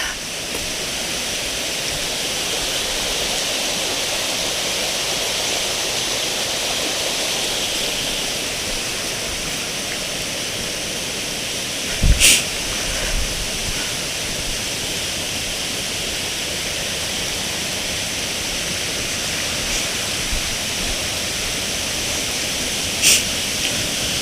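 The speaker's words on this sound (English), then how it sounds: "There's a little waterfall here." A woodland stream and small waterfall on an autumn walk on Exmoor give a steady, full rush of splashing water that never lets up, with a couple of brief knocks partway through.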